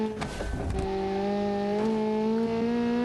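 A race car engine over-revs in BeamNG.drive, a steady high-pitched whine whose tone climbs slowly as the revs hang high, loud and continuous throughout.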